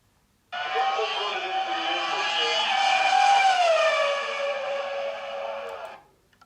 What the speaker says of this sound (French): c'est le passage d'une Formule 1 devant un observateur fixe au bord de la piste